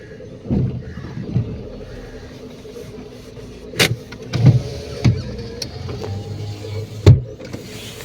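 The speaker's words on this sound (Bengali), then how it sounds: "আমি আগিয়ে আবার ব্যাক করে গাড়িটা পার্কিং করে নিচ্ছি এখন" A car eases back and forth at low speed while parking near the seafront at New Digha, with a low engine rumble broken by several sharp clunks and a brief power-window whir, fairly close and with no talk.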